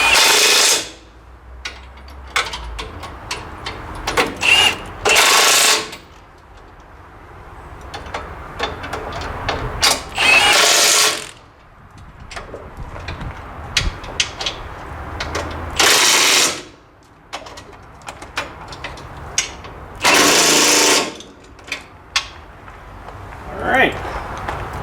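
Ratcheting a socket onto large bottom bolts while assembling a Woodland Mills HM126 sawmill head, heard as repeated bursts of close, loud ratchet clicking separated by pauses, with a person talking in between.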